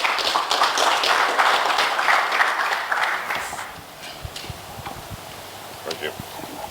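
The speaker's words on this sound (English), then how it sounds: "Please a round of applause for Francis." A conference audience at a nuclear business session applauds, a dense burst of clapping that fades after a few seconds into scattered claps and room noise.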